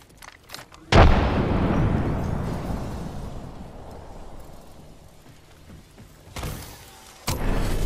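Frag grenade detonating in Apex Legends, a sharp loud boom followed by a long rumbling decay, with a second burst of gunfire-like noise near the end.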